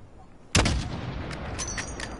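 A single heavy artillery shot booms out in a video game campaign, a sudden loud blast followed by a long rumbling decay with faint crackles trailing off.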